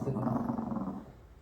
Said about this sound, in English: We're just gonna go back and forth with all these growls.